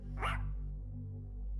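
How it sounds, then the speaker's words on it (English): A dog named Hazel gives a single short bark, fairly close, over a steady low hum, followed by quiet room tone. "Hazel's barking was definitely coming from down there"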